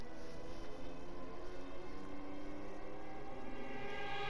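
A World War II-era airplane in the Battlefield V video game passes overhead, its loud, steady engine drone filling the whole stretch without a break.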